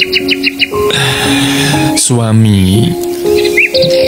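Songbirds chirp in quick, bright bursts at the start and again near the end, mostly beneath steady conversational talk that fills the middle.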